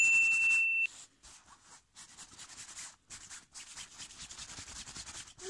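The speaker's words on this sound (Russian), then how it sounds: "Прямо вот так просто зачищаете и все." A cloth or pad rubs micellar water into stains on a jacket, giving steady close scrubbing strokes in rhythmic bursts with short pauses and a brief beep at the start.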